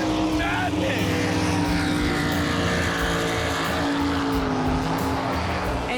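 Swamp buggy race cars tear through a submerged Everglades track in Florida at around 80 to 90 mph, a loud, steady engine roar with droning harmonics that holds throughout, voices faintly mixed in.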